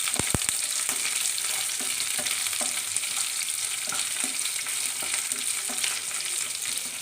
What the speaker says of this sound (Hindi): हमने भिंडी डाल दी है, अब हम भिंडी को इस तरह से चलाएंगे।